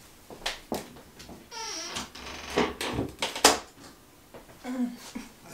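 An indoor door making its irritating little noise, several short creaks and knocks scattered among louder bumps, with a brief squeak near the middle, close to the microphone.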